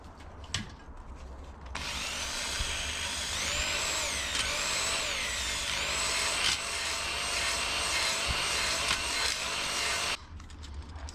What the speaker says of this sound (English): adjust the tension on the stones, and then on a slow speed, let's give it a go